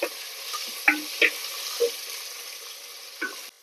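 Chopped onion goes into a hot sambar tempering for drumstick-leaf sambar and is stirred, giving a steady close sizzle with several sharp spoon scrapes and clinks against the pan.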